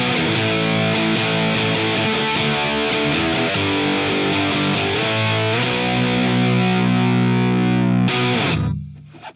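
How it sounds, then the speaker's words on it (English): Electric guitar through a Boss DS-1 distortion pedal, distortion knob at 3 o'clock, heavily distorted, plays sustained crunchy chords and changing notes, loud and dense, ending with a final chord that rings and fades. "there's a really good amount of distortion in this pedal"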